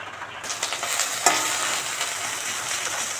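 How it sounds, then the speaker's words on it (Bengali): Bitter gourd hits a wok and begins a steady, close sizzle in hot oil, with a brief utensil clatter just after the frying starts. "এবার এটা দিয়ে দেবো ভাজা ভাজা করে নেবো"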